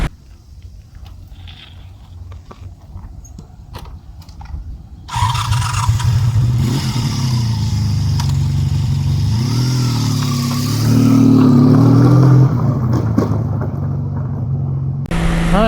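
Honda VF750F Interceptor motorcycle engine starting up and revving steadily, loud and close, with the pitch rising and settling through a sustained run after a quiet start; cold weather around 5 degrees Celsius.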